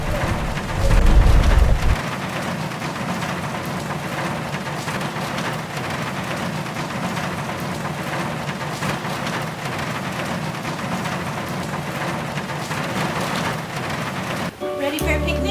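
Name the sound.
rain falling outdoors with wind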